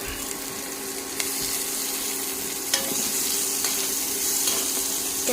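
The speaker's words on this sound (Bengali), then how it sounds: "কুচি দিয়ে হালকা একটু বেজে নেব উস্তাটা বেজে নিলাম" Bitter gourd fries with chopped onion in a pan, making a steady close sizzle with occasional soft stirring scrapes and light clicks over a constant background hiss.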